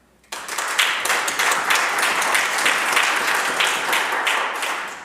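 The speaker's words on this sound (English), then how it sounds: "I know our government and everyone in this House applauds the work of Miel Bernstein." Applause from members in the BC Legislature chamber, a sudden burst of many hands clapping that starts abruptly and holds steady, dense and fairly close, before tapering slightly at the end.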